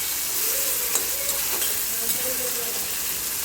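Tomato rice made from leftover rice, with garlic, fries in a pan with a continuous soft sizzle and hiss, steady and close, with occasional faint clinks.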